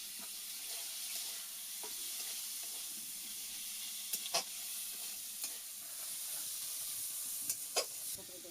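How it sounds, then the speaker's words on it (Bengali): Prawns frying in a pan with ground spices, coriander, turmeric and chilli powder, a soft steady sizzle under a few sharp scrapes and clicks from stirring, fairly faint, with no voices. "এবার চিংড়ি দিয়ে দিচ্ছি"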